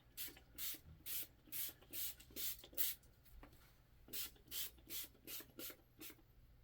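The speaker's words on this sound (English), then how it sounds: "So basically you just spray it on." About a dozen short, hissing bursts of cleaner sprayed onto a bowling ball repeat in a steady rhythm, close and fairly quiet, like a trigger sprayer pumped over and over.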